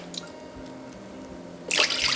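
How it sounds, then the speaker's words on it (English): Dark soy sauce is poured into a Korean galbi marinade: a few soft drips, then a sudden, close, bright liquid splash and a steady pour through the last half second. "Let's add in 1 cup of dark soy sauce"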